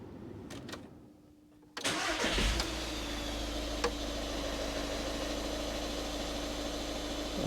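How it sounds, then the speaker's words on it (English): A 2013 VW Caddy 1.6 diesel cranks briefly and fires up after an oil and filter change, then settles into a steady, loud, close idle with a low rumble and faint clatter for several seconds. "let it tick over. You don't need to rev it up."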